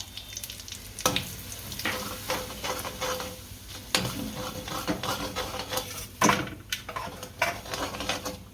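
Mustard seeds and sambar masala sizzling in hot oil in a home kitchen while fried idli is made, a close steady crackle and hiss with sharp pops and spoon stirring clacks throughout.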